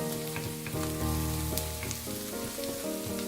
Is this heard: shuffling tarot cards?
no